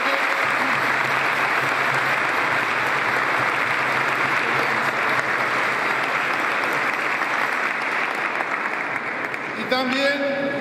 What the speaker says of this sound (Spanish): A todos también un fuerte aplauso.